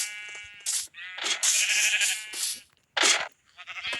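Sheep bleat in the Minecraft video game, several close, nasal calls spaced out over four seconds with short silences between them.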